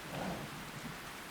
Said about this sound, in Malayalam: 2 ദിവസമായിട്ട് മഴയല്ലേ